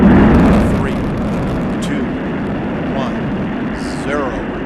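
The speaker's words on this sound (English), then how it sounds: "liftoff of Space Shuttle Atlantis" Space Shuttle Atlantis lifts off on its rocket launch, a loud, broad roar that swells at ignition and then holds as a steady, heavy rumble, with a commentator's voice running over it.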